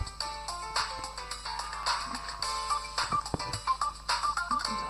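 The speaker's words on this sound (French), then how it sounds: "Téléphone." A telephone ringtone in a Roblox-style video game plays as a bright, repeating electronic melody of quick tones, clear and fairly loud with no voices over it.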